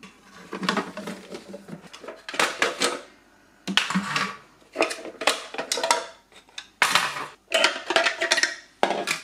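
Plastic parts of a Silvercrest SPM 220 A2 pasta machine being unlatched and pulled apart: a busy run of sharp clicks, snaps and rattling knocks in bursts with short pauses, close and fairly loud, with no talking.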